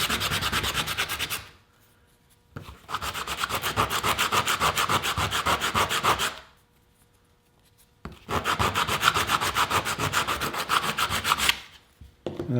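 Rhythmic rasping strokes taper the downward-facing edges of a small wooden Dutchman block, close and steady, in two long runs separated by short pauses, with no voices.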